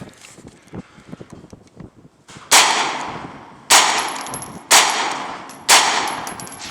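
A Ruger PC-9 9mm carbine fires four loud, close shots about a second apart, each sharp crack ringing off briefly. Quieter clicks and handling noises come before the first shot.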